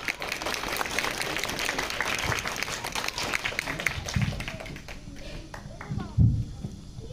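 At a Republic Day school celebration, a crowd of students claps to welcome the school director. The dense clapping gradually thins and fades, and a voice and a few scattered sounds are heard near the end.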